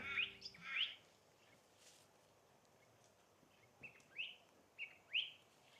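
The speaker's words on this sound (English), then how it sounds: "You hear that bird?" A small wren sings in a garden in short, high chirping phrases, a few bursts at the start and several more toward the end, fairly close with quiet background.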